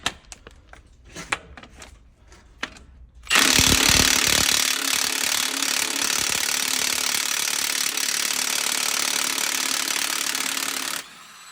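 A cheap weighted impact socket hammers steadily on the harmonic balancer bolt of a 2018 Nissan Titan XD 5.6 L V8, a dense, loud metallic rattling that starts abruptly after a few sparse clicks and runs continuously for about eight seconds before stopping.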